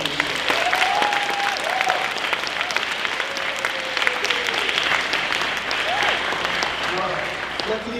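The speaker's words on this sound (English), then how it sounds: "give a huge round of applause to our three amazing guest speakers" An audience in a gym gives three guest speakers a sustained round of applause, a dense steady wash of clapping lasting the whole stretch, with a few voices faintly underneath.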